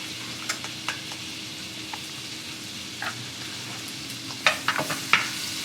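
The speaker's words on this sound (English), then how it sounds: "And saute the shallots for about 1 to 2 minutes until they become translucent." Shallots sautéing in butter in a pan, a soft steady sizzle with scattered light clicks and scrapes of a utensil that grow busier toward the end.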